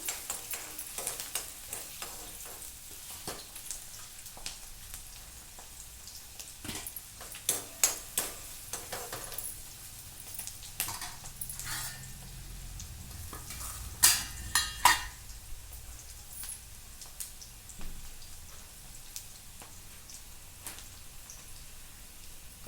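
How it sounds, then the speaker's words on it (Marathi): Onion sautés in a pan, a soft, fairly quiet sizzle under intermittent spatula scrapes and light metallic taps, with a small cluster of louder clatters midway. "कांदा मस्त परतून घेऊ."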